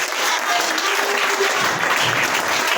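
A church congregation applauding steadily for nearly three seconds, a dense, even wash of clapping from many hands filling the room, with a faint voice briefly audible beneath it.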